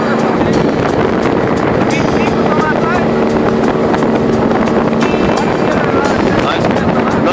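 A weak 40 HP motorboat outboard engine drones continuously under wind buffeting the microphone, with voices faintly audible over the steady hum.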